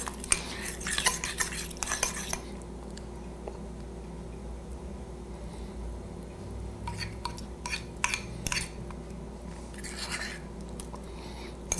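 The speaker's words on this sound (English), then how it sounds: "I'm going to use a fork. I'm just going to mix this up until it turns into basically a batter." A fork whisks water and almond milk into a batter in a bowl, with brisk clattering scrapes in short bursts, quieter mixing between them, and no talking.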